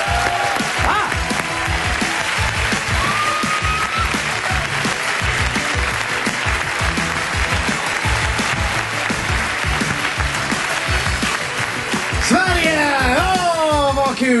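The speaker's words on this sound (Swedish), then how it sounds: "Nu ger man applåd för Terje Sporsen!" Studio audience at a Stockholm Live comedy show applauding Norwegian comedian Terje Sporsem, loud sustained clapping and cheering with music underneath, a voice rising over it near the end.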